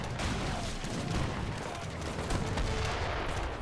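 Artillery and mortars pound away in a late-game Age of Empires treaty match, producing a steady barrage of overlapping blasts and gunfire at moderate volume, with no clear speech.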